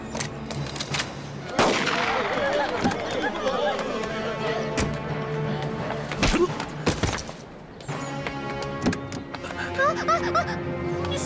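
Machine gun fire in a war film about fighting Japanese troops, with sharp bursts and shots crackling over tense background sound and brief voices.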